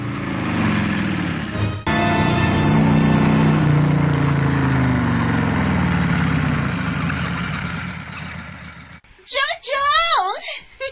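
A taxi engine idles with a steady, loud low rumble for most of the stretch, then cuts off and a voice rises briefly at the end.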